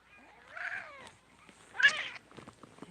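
A pet cat meows twice while being held, a whiny rising cry followed by a louder complaining yowl, close and clear in a quiet indoor room.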